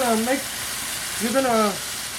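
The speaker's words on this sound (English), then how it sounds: "gonna fry it, let it kind of fry it" Pomfret fish sizzles steadily in a pan, a dense even hiss throughout, while a voice rises briefly twice over the frying.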